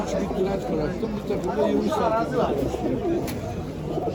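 Birds, including pigeons, chirp and chatter amid a steady background hubbub of people talking at an Istanbul bird market, a busy mix of bird calls and crowd noise throughout.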